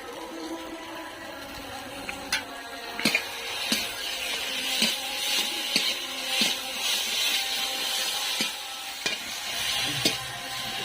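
A spice paste of ground cashew, poppy seed and melon seed fries in a pan, giving a steady sizzle with repeated scraping stirs and small clinks of the spatula against the pan.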